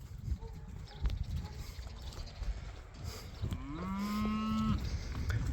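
A cow lets out a drawn-out moo nearby, rising in pitch, over steady outdoor background noise.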